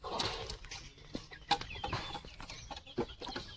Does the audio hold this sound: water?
no